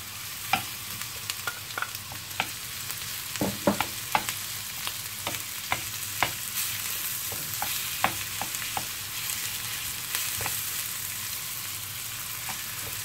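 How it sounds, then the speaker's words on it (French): Ground meat added to browned onions sizzles steadily in a pan while a utensil stirs and scrapes at irregular intervals, close and clear, with no talking. "Ensuite, j'incorpore la viande hachée."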